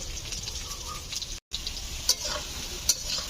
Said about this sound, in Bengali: তেল দিয়ে আলুটা ভাজতে শুরু করলাম।